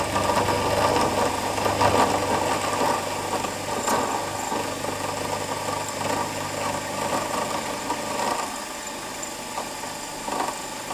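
A milling machine spins a 6mm cutter at 1500 RPM, hand-fed into a workpiece under a flow of WD lubricant. A steady mechanical drone with grinding, rattling cutting noise runs continuously and loud throughout.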